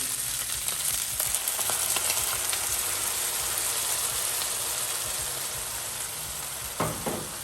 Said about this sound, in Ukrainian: Зараз даємо вершки.